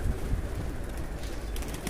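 Pigeons coo softly nearby, low throaty burbling calls repeating over a steady background of outdoor noise.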